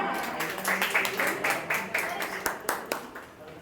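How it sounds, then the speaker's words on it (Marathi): An award ceremony audience breaks into a quick run of rhythmic clapping for the nominees, steady and fairly close, with voices murmuring beneath it. "जोरदार टाळ्या"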